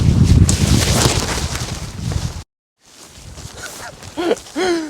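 Loud wind gusting well over 20 mph blasts the microphone in a heavy roar while a pop-up tent is pitched outdoors, cuts out suddenly, then returns more gently beneath a few short vocal sounds.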